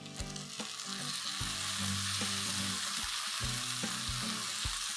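Chopped, blanched tomato tipped into fried onions in a hot pan for Bhavnagari shev bhaji, giving a steady loud sizzle with several sharp clattering stirs and knocks over it.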